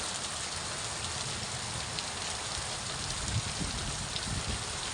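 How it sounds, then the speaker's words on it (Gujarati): Steady, dense rain pours down without a break, a constant broadband hiss with scattered drop impacts close by. "વરસાદ ચાલુ થઈ ગયો છે જબરદસ્ત, પાણી બી વેવીને ચાલવા માંડ્યું"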